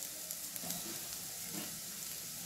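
Kohlrabi frying in oil in a pan as it is stirred, a soft continuous sizzle with faint scraping of the spoon, close and steady, no voices.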